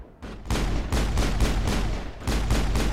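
Rapid automatic gunfire in the video game Mass Effect, a loud, dense string of shots that pauses briefly, then resumes.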